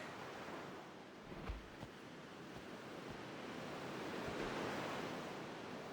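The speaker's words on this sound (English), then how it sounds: "I like the sound of the waves." Ocean waves wash onto a shore at sunset in Final Fantasy X, a soft continuous surf roar that slowly rises and falls with a few faint low thumps, calm and fairly quiet.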